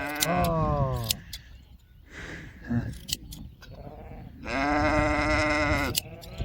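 Sheep being shorn on a highland pasture bleat loudly and close by, several long, wavering calls separated by short pauses, with scattered clinks and handling noises between them.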